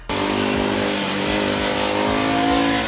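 A BSA Gold Star 650 motorcycle engine starts abruptly and holds a loud, steady close-up rumble with a rhythmic pulsing beat.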